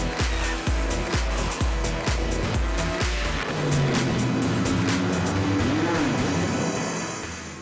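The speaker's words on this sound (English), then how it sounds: "specially built prototype cars at speeds of more than 200 miles an hour" Specially built prototype endurance race cars roar past on a track at over 200 miles an hour. Several loud, rapid pass-bys come in quick succession, followed by a sustained engine drone that fades slightly at the end.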